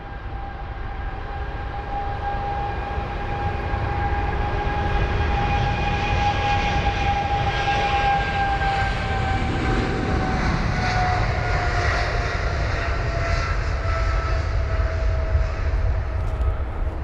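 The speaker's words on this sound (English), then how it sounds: "Heading to Bahrain is BA 125, the 777-200ER of British Airways." A British Airways Boeing 777-200ER jet departing Heathrow, a loud sustained engine roar with a high whining tone that slowly falls in pitch as the aircraft passes and climbs away.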